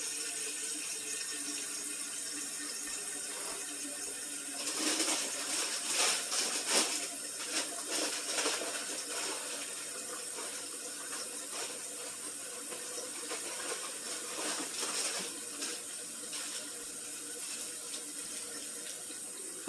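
Tap water runs steadily into a big stock pot for ramen, a continuous close hiss that swells briefly in the middle and then settles into a steady rushing fill.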